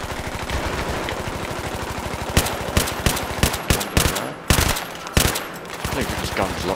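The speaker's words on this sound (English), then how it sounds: "He's getting shot through the sandbags." Gunfire in Battlefield 3 hits sandbags: rapid automatic bursts run steadily, then sharper separate loud cracks punch through in an uneven rhythm, close and dense, with no talk.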